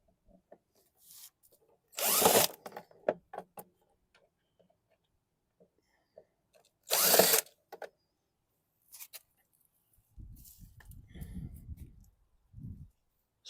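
An impact wrench removes bolts from a 2018 Yard Force self-propelled lawn mower in two loud, close bursts of rattling hammering about a second each, separated by quiet handling clicks, with a brief low voice murmuring near the end.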